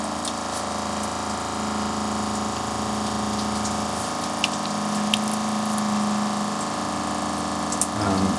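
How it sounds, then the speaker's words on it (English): Water leaks from the plumbing in a Peugeot Boxer campervan while the pump runs, a steady continuous hum and whir with a constant wash of flowing water and a few faint clicks throughout. "Water's coming out that"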